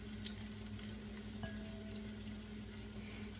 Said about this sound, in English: this is the meat that we spiced and marinated, and you want to hear that sizzling sound.